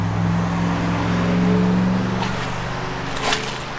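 A 1953 Ford F1 pickup truck runs steadily with a low engine rumble and harmonic drone, close and loud, easing slightly toward the end with faint road noise and a small splash near the end.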